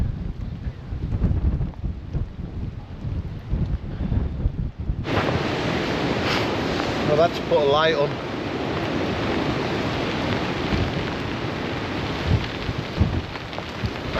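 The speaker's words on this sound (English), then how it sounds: "it is getting windier" Strong wind and heavy rain beat on a tarp shelter during a stormy night of camping, a loud continuous roar and patter close by, with someone speaking briefly over it.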